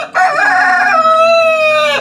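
A chicken gives one loud, close, drawn-out squawking call of about two seconds, with no talk.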